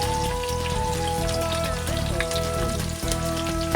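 Onion and capsicum fry in a pan, giving a dense, rain-like sizzle that holds steady throughout, with light music playing underneath.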